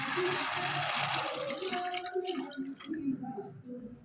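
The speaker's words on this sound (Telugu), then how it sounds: "మనకి తగినంత వాటర్ వేసుకోవాలి" Water is poured into a pan of tomato pieces for semiya upma: a splashing, gurgling pour that trails off into scattered drips and small knocks near the end.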